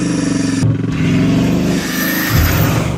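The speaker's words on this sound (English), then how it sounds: "Having the air intakes behind your head also means that you get to fully enjoy the sound of the Mistral's W16 engine." Bugatti Chiron Supersport 300 Plus with its W16 engine revving hard, a loud, close, sustained roar that briefly dips and then surges twice more, with no talking over it.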